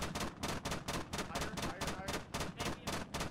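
Rapid bursts of gunfire in a war video game, about a dozen evenly spaced loud shots fired in steady rhythm, close and dense, with no talk over them.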